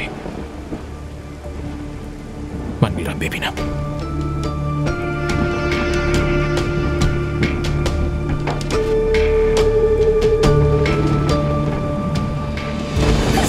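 Heavy rain pours down steadily in a storm, with a sharp thunder crack early on and scattered drips and splashes on surfaces, while a voice speaks briefly over it and a musical tone runs underneath.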